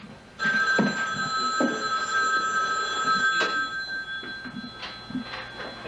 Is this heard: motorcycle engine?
no